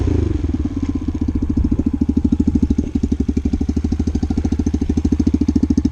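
A brand-new Boom Lil Duc 125cc motorcycle in neutral, already running at the start and settling into a loud, close, steady idle with a rapid, even thumping pulse throughout.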